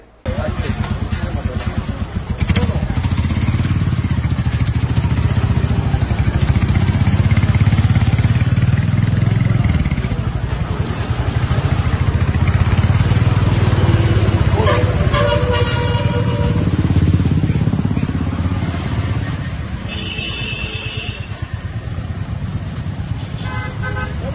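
Motorcycle engine drones steadily throughout, with traffic noise and a few horn toots nearby; loud and continuous.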